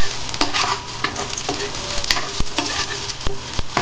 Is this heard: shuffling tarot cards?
no